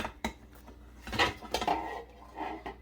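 A metal muffin tin clatters and clinks in a series of short irregular knocks and scrapes as blueberry muffins are flipped, close by, with no talking.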